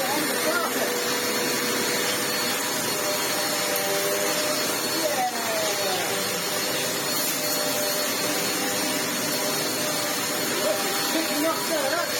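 A Vax Essentials bagless upright vacuum cleaner, restored, runs on carpet with a steady, loud motor roar throughout, while someone talks over it.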